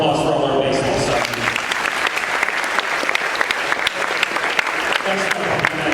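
A crowd claps at a high school athletic signing ceremony for baseball players, a sustained round of applause with a voice heard briefly over the start before the clapping takes over.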